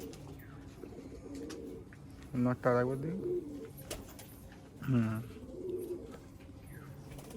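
Punjabi Malwai pigeons coo in two rolling bursts a few seconds apart, close and clear over soft background noise, while someone speaks briefly nearby.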